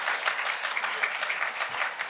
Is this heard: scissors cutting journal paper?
no